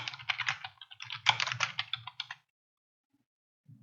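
Close, crisp clatter of a computer keyboard as a short string of text is typed quickly, lasting about two and a half seconds, then silence with a faint click at the end.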